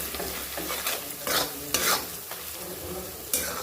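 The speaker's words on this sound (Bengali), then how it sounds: "সব কিছু এবার আস্তে আস্তে কষে নেব।" Spices with salt and turmeric being stir-fried in a pan for chicken keema, a steady sizzle broken by repeated scraping strokes of a spatula, close and alone with no voices.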